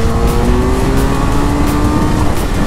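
Kawasaki Versys 1000 motorcycle from 2014 pulling hard in second gear, a loud, steady engine roar with a rising tone across the run, recorded close to the bike with wind noise and no voices.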